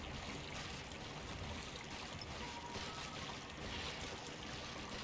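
Steady rushing water of a river waterfall in Dragon Age: Inquisition, a continuous broadband wash that stays even and moderately quiet throughout with no voices over it.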